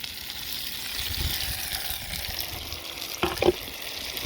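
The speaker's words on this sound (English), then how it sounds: "It's time to add our tomatoes, and in they go." Tomatoes tipped into a pan of wine, garlic and onions that are already browning and frying, a steady sizzle with a brief clatter and splash near the end.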